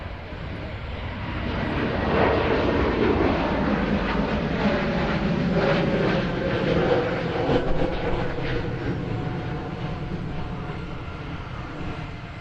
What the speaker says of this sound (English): A321neo just on the roll, and we'll bring the mics up for that one.